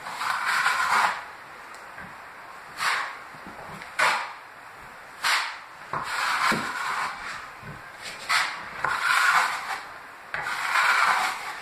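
A trowel spreads joint compound over plasterboard seams in separate sweeping passes, each a soft scraping rasp. The strokes come at uneven intervals with quiet gaps between them and sound close by, with no talk.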